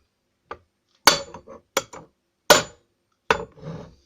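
An internal ignition rotor is knocked into place with a makeshift tool in place of a mallet, giving five sharp metallic taps at irregular intervals, some followed by a faint ring or clink, with near-silence between them.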